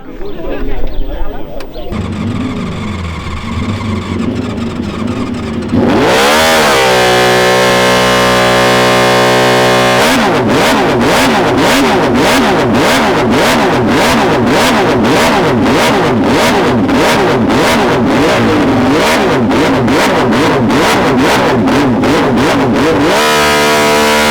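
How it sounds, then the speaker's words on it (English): A huge 5000cc Flying Millyard V-twin motorcycle engine, built with 1942 Pratt & Whitney cylinders, idles with a deep rumble, then revs hard in rapid repeated bursts, loud and close. "hopefully, it's got the sound of the real bike"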